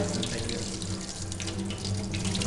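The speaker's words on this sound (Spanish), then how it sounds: "vamos colocando el balón en el chorro de agua fría." A cold tap runs a continuous stream of water over a glass flask, a steady close rushing splash with no pauses and no voices.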